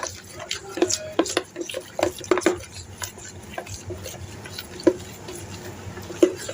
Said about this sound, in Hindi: ये सारा मसाला मिक्स करके